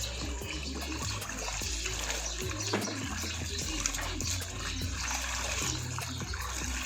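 A shirt is rinsed in water before tie-dyeing, giving steady sloshing, trickling and splashing throughout, close and fairly loud, with no talk over it.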